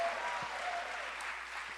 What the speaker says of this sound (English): Round of applause if you love food.